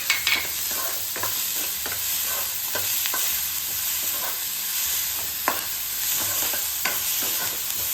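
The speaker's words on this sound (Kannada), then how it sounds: "ಈ ಥರ ಎಲ್ಲ ಕೆಂಪಾಗೊಂಡು ಬೇಯಿಸ್ಕೊರಿ ಉಳ್ಳಾಗಡ್ಡಿ" Sliced onions sizzle in oil for a Kannada brinjal palya, stirred in the pan with repeated scraping strokes over a constant frying hiss.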